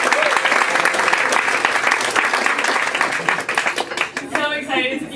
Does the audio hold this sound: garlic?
no